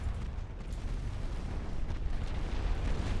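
Torpedo detonation in the naval warfare game Ultimate Admiral Dreadnoughts: a heavy, continuous low rumbling boom that fills the whole stretch, with crackling texture above it and no voices.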